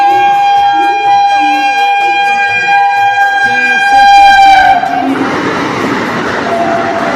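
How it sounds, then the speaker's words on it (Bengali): Vande Bharat train in West Bengal arriving at a station, sounding a loud sustained horn before passing with a burst of rushing wheel and carriage noise, close and loud. "এই দেখো বন্দে ভারত ঢুকছে, দেখাই যাক বন্দে ভারত আসতেছে"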